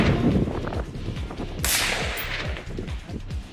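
Rifle fire crackles at a Ruck-n-Gun two-gun biathlon shooting competition, a string of sharp shots fairly far off with echoes between them and no talking.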